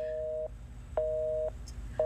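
Phone line tone with three evenly spaced half-second beeps separated by short gaps, clear and close, with faint background hum and no speech.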